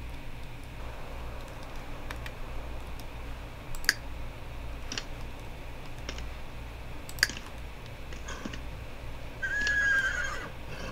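A horse in The Sims 3 Pets gives a short, faint whinny near the end over a steady low game hum, with occasional sharp clicks scattered throughout.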